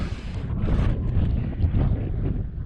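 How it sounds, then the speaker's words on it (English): Gusty wind buffets the microphone outdoors at an airfield, a loud continuous low roar that swells and eases in uneven gusts throughout. "It's gusty."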